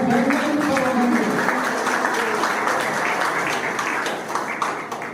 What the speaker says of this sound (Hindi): कृपया सबसे अनुरोध है कि तालियों की गड़गड़ाहट से हमारे सभी अतिथियों का उत्साहवर्धन करें